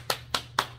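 Three sharp hand claps spaced evenly, close and clear over a low steady hum, with no talking.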